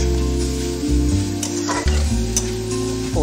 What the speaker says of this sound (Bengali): এবার পোস্ত দিয়ে একটু ভেজে নেব।